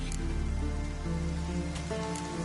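Steady rain falling in The Witcher 3 on PS5, an even, continuous patter with faint low ambient hum beneath and a few soft tonal chimes, no voices over it.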